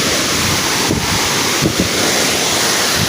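The Old Courtallam waterfall runs heavy with water, a loud, dense, unbroken roar close by, with wind buffeting the microphone.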